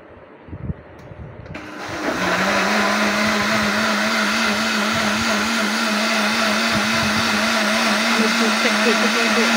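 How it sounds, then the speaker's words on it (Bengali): A kitchen blender whirs into action on ripe mango juice, a steady, loud motor drone holding constant after a brief handling clatter at the start. "এবার আমি ব্লেন্ড করে নিব।"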